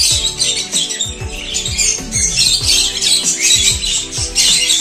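Pet budgerigars chirp and chatter busily in a cage, several birds overlapping in a dense, continuous flurry of high tweets and squawks, close and lively, with a young budgie among them.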